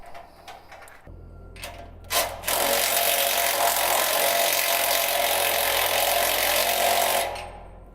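A power tool tightens the wheel lug nuts on a trailer, starting with a few short taps and then running loud and steady for about five seconds before stopping.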